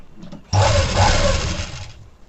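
A sewing machine stitches a blouse hook strip in a fast, steady whir that lasts about a second and a half, close and loud, before it winds down. A short quiet lead-in comes first.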